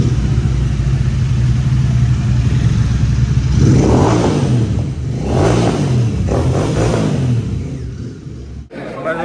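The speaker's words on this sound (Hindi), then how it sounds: "अब हम भी अपनी बाइक्स को अंदर लेके जाएंगे।" Motorbike engines revving and rumbling as the superbikes ride indoors, loud and close, with rising throttle sweeps midway and a brief drop near the end.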